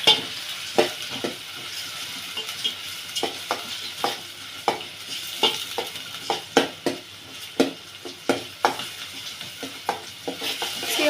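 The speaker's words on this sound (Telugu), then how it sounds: "సో ఇప్పుడైతే ఆయిల్ బాయిల్ అయిపోయింది కదా, సో దీంట్లో ఆనియన్స్ వేసేద్దాం" Onions frying in hot oil in a pan for chicken curry, a continuous close sizzle broken by repeated sharp clinks and scrapes of a spoon stirring against the pan at an uneven rhythm.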